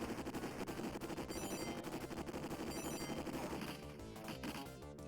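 Rapid full-auto gunfire from the 1989 Dynamite Duke arcade game, a dense unbroken rattle of shots layered over loud game music and effects, steady for most of the stretch before thinning near the end.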